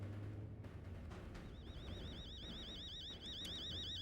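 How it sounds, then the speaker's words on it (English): An iPhone sleep alarm rings partway through as a warbling electronic trill that repeats steadily. It is faint and sits under a dense low background rumble. "What in the iPhone sleep alarm is that?"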